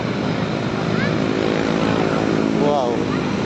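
A camera drone buzzes overhead with a steady, constant motor whine, while someone talks over it.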